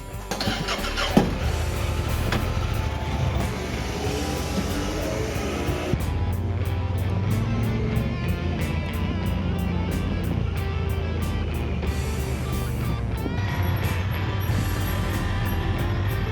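A Honda Pioneer 1000 side-by-side driving through woods with a windshield fitted, its engine a loud continuous rumble with shifting revs, rattling and clattering bumps over rough ground, heard close throughout.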